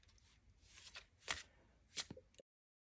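A deck of Greek gods cards is shuffled by hand in soft riffling bursts, with two sharper snaps standing out, close and fairly quiet before stopping abruptly.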